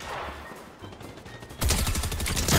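Loud bursts of AK rifle fire in the Fortnite video game break in suddenly after quieter in-game noise, a dense rapid volley filling the last second of the clip.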